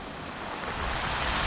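Large storm waves crash continuously on the sea shore at Pitsunda, a dense roaring wash of surf mixed with wind noise that swells slightly louder toward the end.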